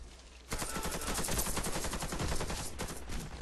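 Rapid automatic gunfire in a first-person shooter game (WF) bursts in loudly after a short quiet lead-in and keeps rattling in fast repeated shots to the end.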